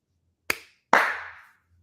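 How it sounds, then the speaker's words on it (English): Two sharp hand claps, a short one then a louder, fuller one with a brief ring, in an otherwise quiet room on a podcast set; no talk during them. "I think that deserves one clap."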